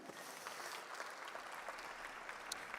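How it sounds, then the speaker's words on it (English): Sustained applause from a large audience at a trade fair keynote event, honouring the Umgidi dance performers; dense, steady clapping fills the whole stretch without a break. "Give a big round of applause for Umgidi."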